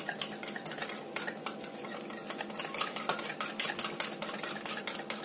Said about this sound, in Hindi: अब ये सारा सामान मिला लिया हमने और इसको अच्छे से इससे मिक्स कर लेंगे।